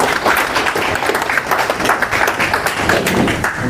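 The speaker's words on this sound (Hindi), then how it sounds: "जनाब दिलशाद नजमी साहब आपके स्टेज पर एक बार फिर इनके लिए जोरदार तालियां होनी चाहिए।" An audience applauds a poet on stage at a literary and music tribute evening, with loud, dense clapping that stays continuous throughout.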